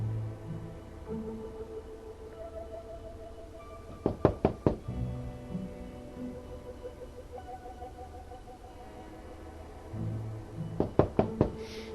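Knocking on a door in a TV crime drama, two bursts of several sharp raps each, the first around the middle and the second near the end, heard over a low background music bed.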